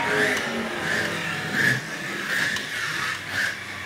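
Scalextric Formula 1 analog slot cars lap a plastic track, their small electric motors whining steadily and rising and falling in pitch as they pass close by, with no voices heard.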